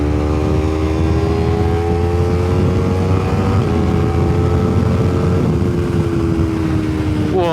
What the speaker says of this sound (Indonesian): Lu bisa dengerin suara knalpot gue juga.